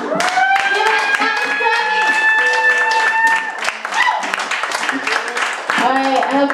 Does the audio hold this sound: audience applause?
yes